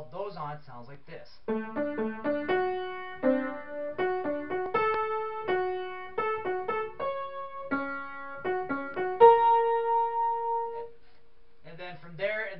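Piano playing a wrestling entrance theme, a melody of distinct notes with added chords moving in a steady rhythm, clear and close, ending in a held note; brief talk at the start and end.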